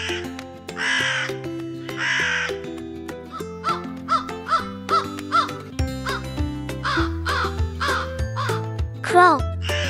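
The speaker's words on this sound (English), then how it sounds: "Crow." A crow caws repeatedly in harsh, rhythmic calls over an upbeat children's music track.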